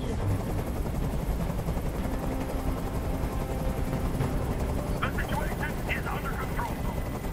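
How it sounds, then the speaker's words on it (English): A helicopter's rotor thrums continuously amid busy sound effects in the video game Detroit, with scattered bursts of sharper noise near the end. "Tell that helicopter to get out of here."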